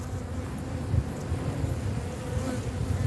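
Honeybees hum around an open beehive, a dense, steady low buzzing from many insects close by, continuous and fairly loud with no voices.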